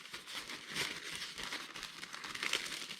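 Thin plastic wrapper from a 24-hour ration pack being folded, a close, soft continuous crinkling with small crackling peaks throughout, no talking.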